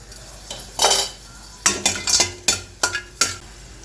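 Asafoetida roasting in a little oil in a pan, with a spoon scraping and clinking against the metal in a quick series of sharp strokes over a faint sizzle.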